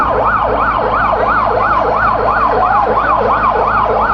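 A loud wailing ambulance siren at Sylhet airport after a runway crash sweeps up and down in a steady repeating cycle, close by, with a vehicle engine rumbling underneath.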